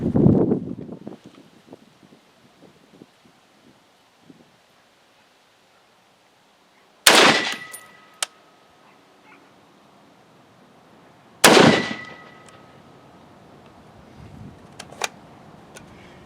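Two loud, sharp gunshots from a Desert Tech MDR rifle during a qualification course, spaced about four seconds apart, each with a short trailing echo, followed by light outdoor handling noise and a faint wind-blown background.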